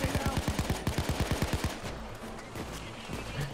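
Gunfire from snipers during a Payday 2 heist, starting as a rapid, loud string of evenly spaced shots for nearly two seconds before breaking into a dense, noisier clatter of mixed combat sound.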